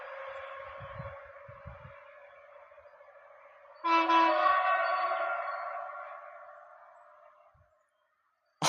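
A passing train sounds its whistle in a long sustained blast that starts moderate, jumps louder at about four seconds, then fades away into silence.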